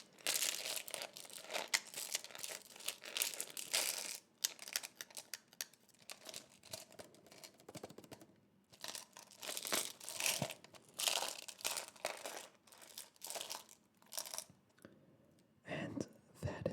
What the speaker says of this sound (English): that is the sound of mini building blocks